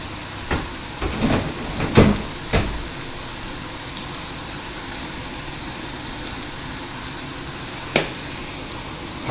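Zucchini fries in a hot pan for a barbecue side dish: a steady, close sizzle with scattered sharp crackles and pops, clustered near the start and again later, and no one speaking.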